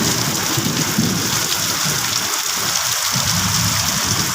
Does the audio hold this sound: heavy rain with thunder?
yes